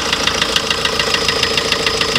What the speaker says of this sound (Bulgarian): Тук цяло добре стои мотора, но чука.